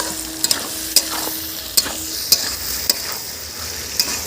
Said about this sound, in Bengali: হাফ ভাজা হয়ে গেছে এবারে দিয়ে দিচ্ছি আমি পেঁয়াজটা